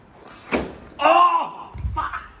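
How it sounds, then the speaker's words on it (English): A door is opened with a sharp knock or thump, then a loud creaking, groaning sweep and a dull thud near the end, close by and heard alone. "I'm gonna open the door"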